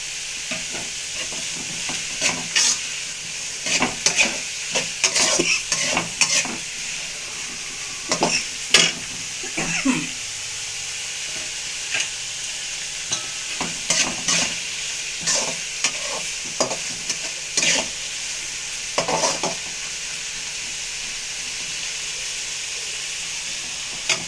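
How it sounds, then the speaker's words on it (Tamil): Onion and green chili sautéing in a pan give a steady close sizzle, broken by repeated scraping and clinking strokes of a stirring utensil throughout, with no talk. "இப்போ இந்த வெங்காயம் பச்சை மிளகாய் வதங்கும் போதே கொஞ்சமாக நம்ம சால்ட்"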